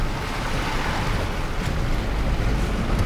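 Hummer H3T pickup truck wading through deep water off-road, a steady loud wash and churning surge of water with rumbling low noise throughout, no talk.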